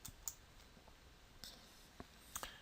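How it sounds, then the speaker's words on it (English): A few sharp computer mouse clicks, sparse and isolated, close and crisp against a faint quiet room background, with no talking. "So I'm going to click on the map button."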